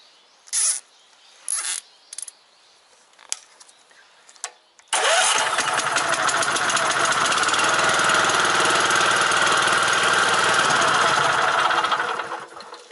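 After a few short knocks and clicks, a Kukje walk-behind cultivator with a replacement engine starts up and runs loudly and steadily for about eight seconds at close range before cutting off.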